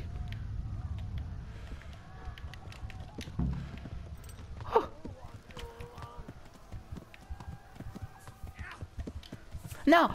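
Horse hooves clip-clopping in the game Kingdom Come: Deliverance, with a couple of whinnies, while people talk over the action.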